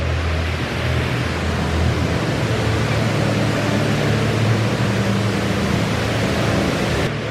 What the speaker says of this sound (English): They've even got over there, you can probably hear it, a waterfall.